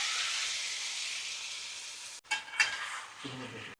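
A kilogram of cleaned chicken hits hot oil in a pan, setting off a loud, steady frying sizzle that cuts out abruptly, followed by a couple of stirring scrapes and a quieter returning sizzle.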